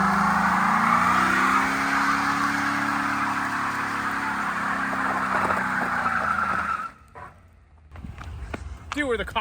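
A stock Ford Crown Victoria revs hard with a screeching tire skid, loud and sustained for several seconds. The noise then cuts off abruptly and people talk as the car settles.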